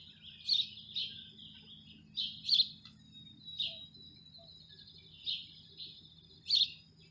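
Sparrows chirp in short, bright bursts every second or so while feeding on dog food, fairly close and distinct over a soft low background hum.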